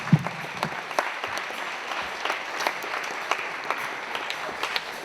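Audience applause at a film festival closing ceremony, a steady patter of many hands clapping at moderate volume, with scattered louder claps throughout.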